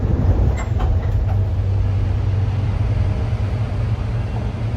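A Sydney Metro train rumbles along at steady speed with a deep, continuous roar and rattle, heard from inside the carriage, with no voices.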